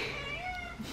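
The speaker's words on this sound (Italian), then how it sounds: "Buongiorno, gatta Stellina" A female house cat meows once at close range indoors, a single drawn-out call of about a second, heard alone.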